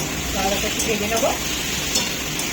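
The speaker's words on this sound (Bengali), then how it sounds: "একটু ভেজে নেবো।" Spices with green chilli and ginger fry in a pan with a soft, continuous sizzle, a few light stirring scrapes and brief utensil clinks close by, under quiet background noise.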